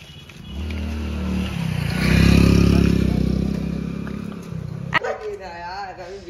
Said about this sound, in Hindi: अरे ये किसका है कुत्ता